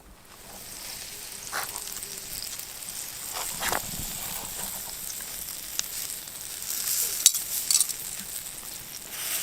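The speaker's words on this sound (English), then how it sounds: "put these right on the coals, and that broth is going to cook the scallops" Scallops cook in broth set right on campfire coals during an island camping trip in Nova Scotia, a low steady sizzle and bubbling with scattered pops and light clinks of utensils, no talk.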